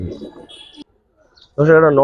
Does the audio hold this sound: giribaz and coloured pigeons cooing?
yes